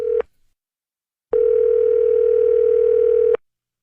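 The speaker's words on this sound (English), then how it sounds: "We're going to get him on the phone right now and tell him he won." A steady telephone dial tone hums loud and alone, first as a short burst that cuts off, then after a pause as a long unbroken tone of about two seconds while a call is placed.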